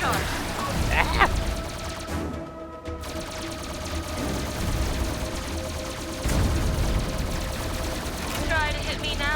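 Gunfire and rocket fire from combat aircraft in the video game Trouble in Azuria, a steady dense rattle of shots with booming bursts, running under continuous talk.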